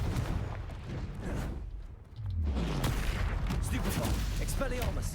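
Fiery blast spells in the Hogwarts Legacy video game, several loud bursts and whooshing booms layered over continuous combat noise, with speech present.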